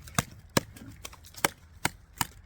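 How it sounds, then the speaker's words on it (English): An Off-Grid Knives Alpha-Dog knife with a 4.5-inch blade hacks into a tree trunk outdoors, striking six sharp chopping blows at a steady, slightly uneven rhythm, close by and distinct over soft ambient noise. "It is taking chunks out of this tree."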